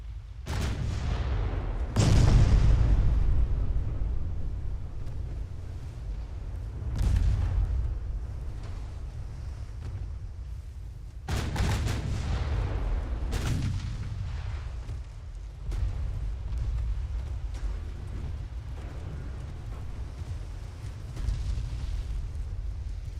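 Naval guns fire in Ultimate Admiral: Dreadnoughts, with several heavy booming salvos spaced seconds apart, each sharp crack rolling into a long low rumble over constant battle noise.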